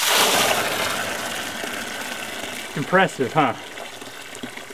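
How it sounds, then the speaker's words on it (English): Water gushes loudly from a ram pump line after pressure has built up, a strong steady hiss that slowly eases off, while someone briefly speaks over it. "I've had the ram pump water cut off for a little while. Check out the pressure that's behind this thing."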